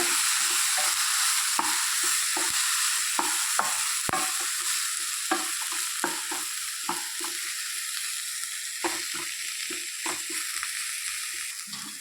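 Spicy brinjal stir-fry being stirred and mixed in a pan, a soft steady sizzle under frequent rhythmic spoon scrapes and taps, close and fairly quiet, with no voices.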